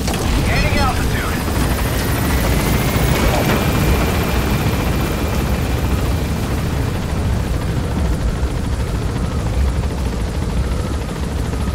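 A video game helicopter gains altitude during an extraction, its steady rotor roar filling the whole stretch loud and continuous, with a faint rising whine above it.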